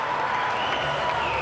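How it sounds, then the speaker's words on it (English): A local crowd at a fight event applauds and cheers, a dense continuous wash of clapping and shouts from a packed venue, loud and steady throughout. "the local crowd going wild"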